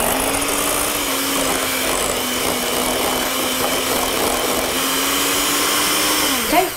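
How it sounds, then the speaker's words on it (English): A handheld electric whisk whips cream cheese and butter together, a steady loud motor whine with a constant pitch running throughout, then winding down and stopping at the very end. "So I'm going to start off by whipping up the cream cheese and the butter together. Got an electric whisk here"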